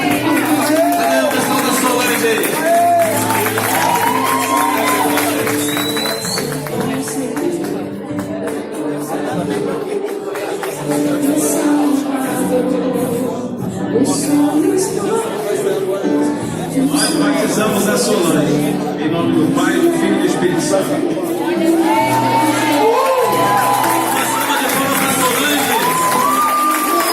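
Church congregation cheering, whooping and applauding in a hall, a lively crowd roar that swells and dips over nearly half a minute with shouts and chatter mixed in.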